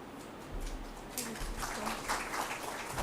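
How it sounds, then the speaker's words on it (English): An audience claps for a student speaker at a journalism and mass communication school orientation session. The applause starts after a short pause and continues as a steady, moderate patter that fills the room, with some murmuring under it. "All of you should give her a big hand, big applause."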